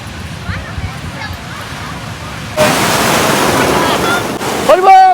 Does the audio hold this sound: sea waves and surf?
yes